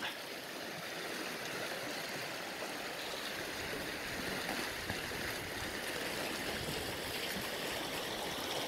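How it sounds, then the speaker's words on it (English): Floodwater rushes across a raging flooded creek crossing on a forest fire trail, a steady, loud, broadband roar of churning water that fills every moment without pause. "I've never seen it flowing like that."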